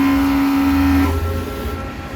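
An Epson XP600 inkjet printer running a nozzle test gives a steady mechanical whine with a sustained tone that cuts off about halfway, leaving a lower motor hum and carriage rumble. It is close and loud, with no talking.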